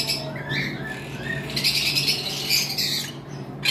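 Violet double factor lovebirds, an adult breeding pair in a cage, squawk and chirp in sharp high bursts that stand out most strongly midway through, over a steady low hum, with no talking.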